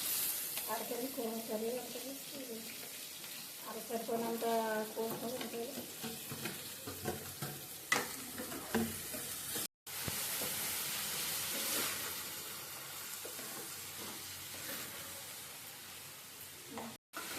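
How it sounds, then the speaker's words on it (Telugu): Onions fry in a pan for a chicken and drumstick curry, a steady sizzling hiss stirred now and then, with a voice talking over the first half before the frying carries on alone. "ఇప్పుడు ఆనియన్స్ వేసుకొని ఫ్రై చేసుకోవాలి."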